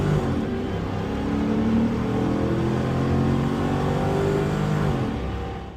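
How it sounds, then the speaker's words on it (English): A Holden VY SS car engine revving steadily through slow, lazy gear changes, a loud continuous droning rumble with rising and falling pitch that tails off at the end, no talk. "Every gear change sounds lazy."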